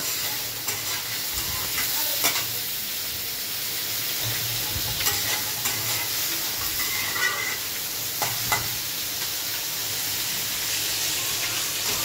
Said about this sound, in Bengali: পেঁয়াজটাকে এখন ভাজা ভাজা করে নেব